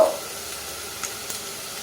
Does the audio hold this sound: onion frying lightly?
yes